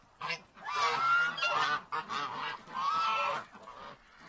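Geese honk repeatedly at close range in loud, uneven bursts with short gaps between, a flock of birds calling near a dog, with no talking heard.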